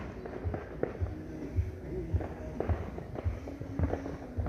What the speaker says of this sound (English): While they popping fireworks